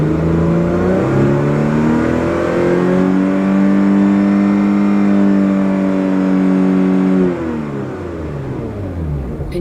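Stock Lotus Evora S engine revs steadily and loudly up toward 6000 rpm, holding a sustained high-pitched roar for several seconds before dropping back to a lower idle near the end.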